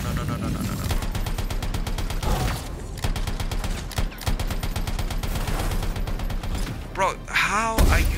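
Rapid bursts of automatic gunfire from the Anthem video game fill the scene, played as a Ranger on hard difficulty. The shots crackle in dense, repeated volleys with brief pauses and some mechanical clanks.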